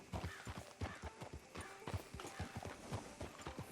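Horse hooves in Red Dead Redemption 2 clip-clop in a steady, fast rhythm of many close, distinct beats that run without a break.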